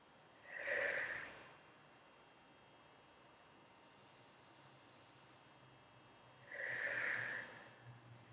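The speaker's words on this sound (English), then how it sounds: "Take 2 deep breaths" Two slow, deep breaths resting in child's pose, each a soft airy rush several seconds apart, close and quiet against a faint steady background hiss.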